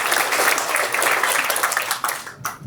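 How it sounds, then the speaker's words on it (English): A comedy-club audience at a stand-up show claps together, a dense, loud, steady wash of applause that thins and drops away near the end. "Clap it up for yourselves, by the way."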